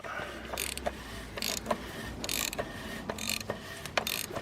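A ratchet tightening the oil filter housing cap on a BMW 3 Series, heard as close, rapid clicking bursts in repeated short strokes with brief pauses between them.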